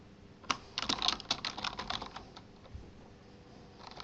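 Quick bursts of computer keyboard typing as question text is entered, close and fairly quiet, with clustered keystrokes followed by a pause near the end.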